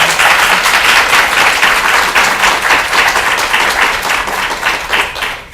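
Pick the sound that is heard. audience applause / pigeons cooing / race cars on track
audience applause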